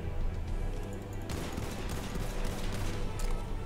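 A new gun firing in the video game Borderlands 3, a loud, continuous burst of rapid gunfire over game background noise, steady and dense throughout with no talk.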